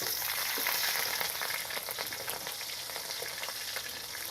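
Three chilies sizzling in hot oil in a pan, a dense continuous frying crackle that stays fairly even and close, with faint stirring taps and no voices.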